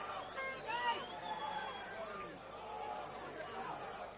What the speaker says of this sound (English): See how the crowd really starting to try and will Preston over the line now.